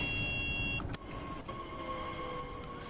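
An S-Bahn-style train in Train Sim World 2 on the Köln high-speed line pulls into a platform with a steady electric motor whine and tonal hum, a brief dip midway, then settling as it slows.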